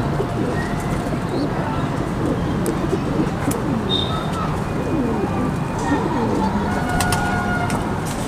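Rajasthani pigeons, including Bajre and Kalsare breeds, coo softly and repeatedly among other birds, set against a steady, noisy outdoor backdrop without distinct talk.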